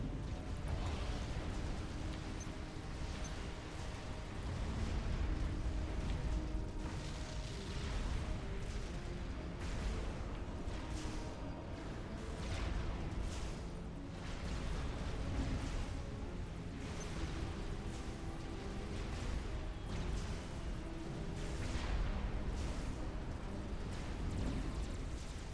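Heavy battleship shelling in a Supreme Commander naval battle, a steady, dense barrage of booming impacts and explosions rumbling continuously at close range throughout.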